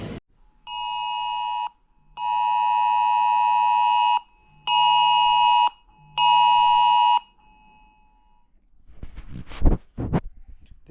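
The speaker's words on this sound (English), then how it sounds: "This is the emergency alarms we're getting like every day" Four loud electronic emergency alert tones sound from a phone in Dubai, steady tonal bursts of uneven length separated by brief gaps, followed by a little rustling handling noise.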